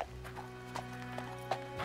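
Horse hooves clip-clop in a steady, moderately close rhythm of about four hits under a sustained musical drone.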